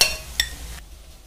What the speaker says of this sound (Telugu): పల్లీలు ఇలా వేగిన తర్వాత ఒక బౌల్ లో తీసుకొని పక్కన పెట్టుకోండి